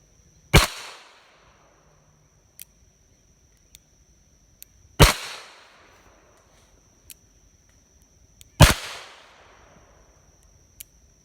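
A Smith & Wesson 586 .357 Magnum revolver fires three loud, sharp shots a few seconds apart, each ringing out in a brief tail, with small clicks between them.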